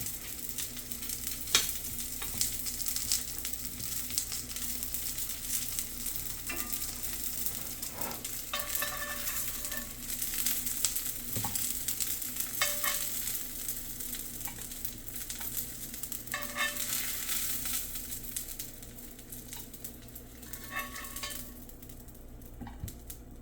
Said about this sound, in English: All we want is a sear, because we'll be finishing these off in the oven.